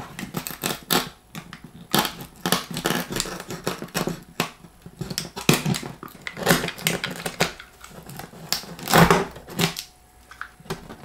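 Cutting through paper-thin wood flooring material on a wood floor accent wall produces close, repeated crunchy rasping bursts in an uneven rhythm, with no talking.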